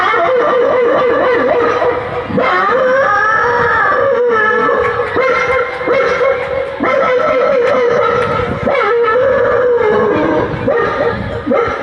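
A human voice imitates an old hairless dog, giving drawn-out, wavering howls and whimpering whines, loud and close, repeated in several long phrases.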